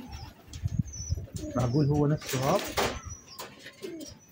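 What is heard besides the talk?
pigeon cooing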